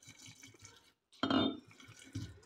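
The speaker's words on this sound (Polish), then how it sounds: "Dolewamy trochę tego octu i on powinien przyspieszyć cały ten proces." Grape vinegar, about two years old, is poured into a jar of homemade lilac vinegar, a short liquid splash and trickle close by in a quiet room with faint background clatter.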